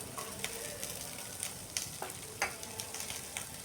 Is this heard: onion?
yes